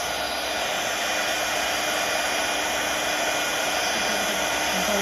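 A heat tool blows steadily for the whole stretch, a close, even hiss-and-whir as it melts gold embossing powder onto a handmade birthday card, with no talking.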